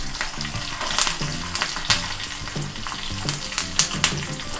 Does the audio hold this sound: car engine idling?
no